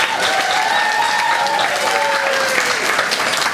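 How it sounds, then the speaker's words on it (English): Loud, sustained audience applause at a Salford talent show fills the room evenly throughout, with cheering voices and a whoop or whistle rising above the dense clapping. "Huge round of applause"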